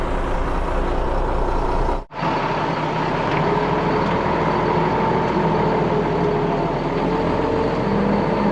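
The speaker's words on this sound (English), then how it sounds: "So let's jump in the truck and get trucking." A Mack RD688S dump truck on the road, its engine a steady loud drone with broad road and cab noise that cuts out for an instant near the start, then resumes continuously.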